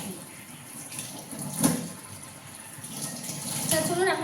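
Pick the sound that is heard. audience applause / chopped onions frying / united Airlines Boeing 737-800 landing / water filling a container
water filling a container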